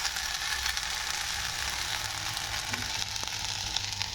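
Dhekia fern greens fry with khar in a pan, giving a continuous bright sizzle and crackle close up, with a faint scrape or two of stirring near the end and no speech.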